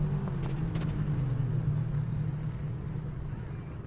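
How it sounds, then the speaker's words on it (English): A drag racing car's engine rumbles at an airport airstrip drag strip, a steady low, idling drone heard from a moderate distance, with a short higher-pitched swell early on and no talking. "Car still sounds amazing, so obviously it's not a runnability thing."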